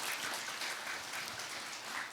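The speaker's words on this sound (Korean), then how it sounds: "감사의 마음으로 박수를 드리겠습니다." Faint, distant applause from an audience after a lecture at a church Bible academy, a soft steady patter of many hands with no voices over it.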